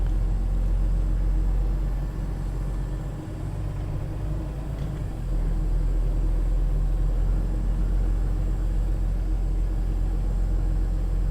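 A truck pulling a hooked-up trailer drives off from Fulton at midnight, its engine giving a steady, loud low rumble that continues throughout with a brief dip partway through.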